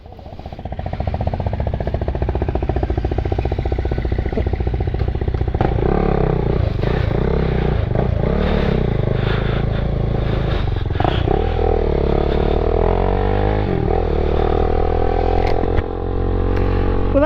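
Triumph motorcycles ride off together on the road, their engines close and loud through the whole stretch, revving up and down through gear changes with occasional clatter and wind rush.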